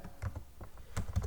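Computer keyboard keys tapped in a short burst of a few quick clicks while writing Android code, close and fairly clear with no talking.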